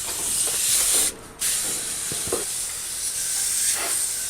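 Water spraying from a hose onto air conditioner condenser fins, a steady close hiss that cuts off briefly for a moment before resuming.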